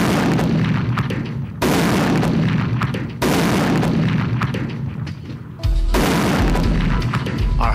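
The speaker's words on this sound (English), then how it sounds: "This is what 8 pounds of explosive looks like when it goes off." Eight pounds of explosive detonate on a test range with dummies, heard as a string of heavy booming blasts with sudden sharp onsets and long roaring tails, loud and close, the last one deepest.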